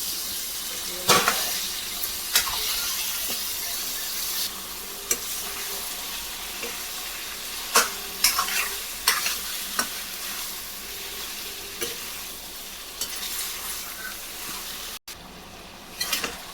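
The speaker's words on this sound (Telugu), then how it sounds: "చికెన్ మంచిగా ఒక 2-3 నిమిషాల నుంచి కలుపుతూ ఫ్రై చేసుకుంటున్నా" Washed chicken with ginger garlic and salt frying in a pan, a loud continuous sizzle broken by periodic scrapes and clanks as it is stirred.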